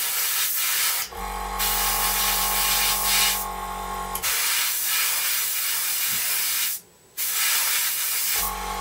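Bursts of steady airbrush spray hiss as primer is sprayed onto a Su-27UB model, close and loud, switching on and off several times with short pauses and a constant low hum underneath.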